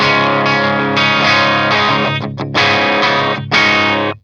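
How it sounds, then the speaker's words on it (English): Heavily distorted electric guitar chords strummed hard through a high-gain Marshall amp, overloading, loud and fuzzy, with brief choppy gaps before a final crashing strum. "if I hit the strings really hard, it sounds as if it's like overloading or something"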